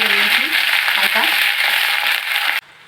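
Onions sizzling in hot oil with a bay leaf and whole spices while khichuri is cooked, a loud, steady, hissing fry that runs without a break, with faint voice-like tones underneath, and then suddenly drops away near the end.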